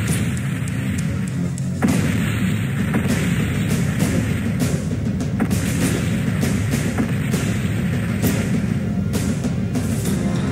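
Muffled booms and thuds of an enemy mech exploding in MechWarrior 2 fill the clip, loud and continuous, over a low rumbling game soundscape.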